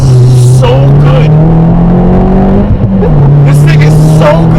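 A 2011 Mini Cooper S (R56) engine is driven hard, a loud close droning rev that climbs steadily then drops as it shifts, with a person talking over it inside the cabin.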